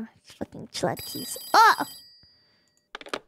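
A telephone bell rings in a video game set in a bathhouse, with one loud burst of trilling rings in the middle, amid excited talk and shouting from players.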